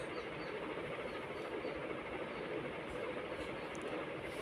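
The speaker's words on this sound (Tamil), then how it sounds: "மிக்சி ஜாரில் எடுத்த மசாலாவை நம்ம அரைச்சி எடுத்துக்கலாம்" A mixer grinder jar grinds masala paste for green chicken 65, giving a loud, steady, unbroken motor whir with dense grinding noise throughout and no voices.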